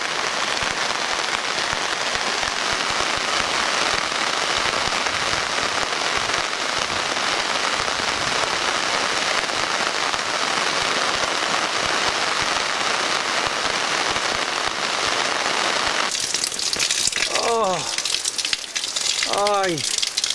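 Steady rain falls in Coamo, Puerto Rico, a dense, loud, continuous patter on surfaces, with a voice joining near the end.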